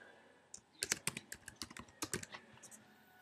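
Keys clatter on a Mac computer keyboard while working in Excel for Mac 2011, a quick run of close, crisp clicks in bursts with short pauses, no voice.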